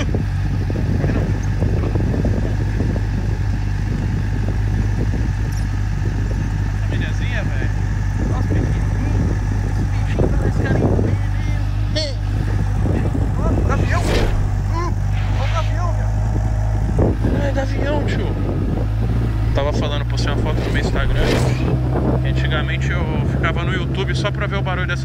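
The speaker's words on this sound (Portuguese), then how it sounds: "Só pra ver o barulho dessas motos, escapamento" Motorcycle exhausts, including a Honda Hornet, rumble steadily throughout, with a low engine drone and wind buffeting, while people talk over it.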